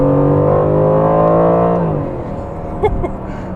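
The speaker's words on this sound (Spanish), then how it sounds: "El motor realmente suena mejor que el del AMG GTS." An Aston Martin sports car engine revs hard with a loud, steady roar that holds and then drops in pitch as the revs fall, leaving a lower idle rumble with a brief blip near the end.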